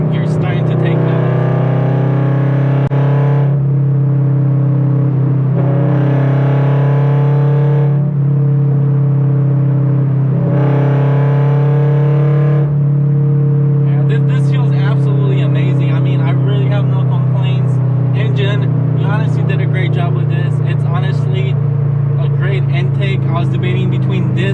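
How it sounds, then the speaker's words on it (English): A car fitted with an aftermarket intake pulls in fifth gear with a deep, steady engine drone and a humming tone that holds throughout, while someone talks over it in several bursts. "even if you step on it, you can already feel the torque just kicking in, and you're starting to take off."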